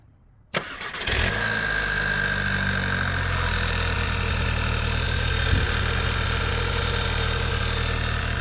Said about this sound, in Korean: 자, 시동을 한번 걸어 볼까요?